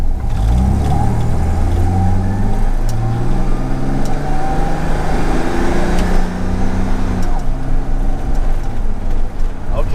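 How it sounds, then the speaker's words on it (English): A Jaguar E-type with a gearbox fault pulls away in low gear, engine revving loud and close with rising pitch, a drop as it shifts, then climbing again steadily. "When you get in low gear, the car does move out pretty nicely."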